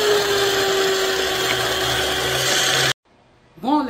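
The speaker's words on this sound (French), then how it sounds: "la batteuse faisait trop de bruit, donc j'ai dû finir de mixer hors caméra" An electric hand mixer whips a cosmetic butter blend with a loud, steady whirring drone, then cuts off abruptly, leaving a quiet room where a voice briefly begins.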